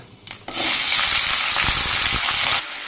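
Potato and stalk pieces hit hot oil seasoned with five-spice, setting off a sudden loud, steady sizzle that lasts about two seconds and then cuts off sharply, close by, with no talking.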